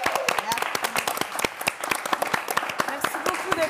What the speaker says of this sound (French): Sous vos applaudissements, Libraz.